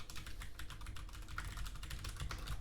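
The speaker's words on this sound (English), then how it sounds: "So let's type that up." Rapid keystrokes on a computer keyboard, steady and continuous at close range, with no talking.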